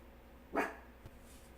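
A single short, muffled dog bark in a quiet room, fairly faint, followed by a small thump.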